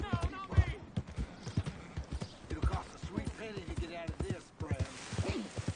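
Rhythmic clip-clop of horse hooves trotting in a video game, with a brief neigh, under continuous voices speaking over the top.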